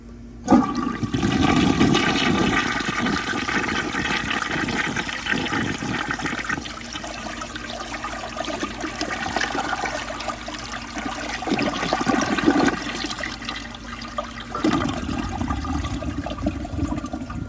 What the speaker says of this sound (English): So let's give it another flush.